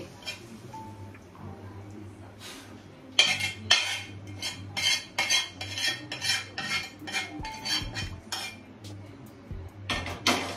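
Garlic butter paneer is poured from a pan into a serving dish, with metal utensils clinking and scraping against the cookware in quick, close bursts, sparse at first and then a busy run of clatter.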